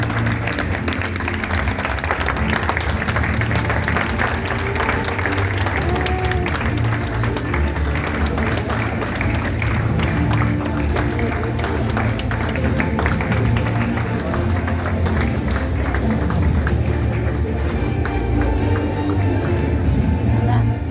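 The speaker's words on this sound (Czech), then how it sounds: "I think Pavel deserves another round of applause" Sustained audience applause at an event in Prague, a dense, loud wash of many hands clapping continuously for about twenty seconds with crowd noise mixed in.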